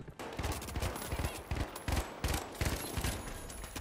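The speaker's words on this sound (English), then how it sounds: "That's the only thing with the FAMAS is it shoots a little slowly" Steady bursts of FAMAS rifle fire in a first-person shooter video game, rapid repeated shots in clusters over about four seconds, loud and close, with no talking.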